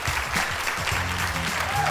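Applause from a studio audience at a theater talk show, a dense steady wash of clapping filling the whole moment, loud and close.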